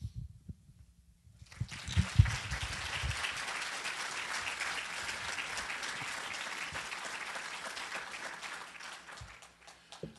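Audience at a 2010 candidate debate featuring Scott Walker breaks into sustained applause and clapping after a closing appeal, swelling loudly and holding steady for several seconds before tapering off, with a brief voice before it begins.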